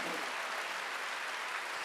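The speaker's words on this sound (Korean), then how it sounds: "박수하세요." A church congregation claps together during a Korean Sunday worship service. The applause is dense, even and fairly close, filling a short stretch with no voices over it.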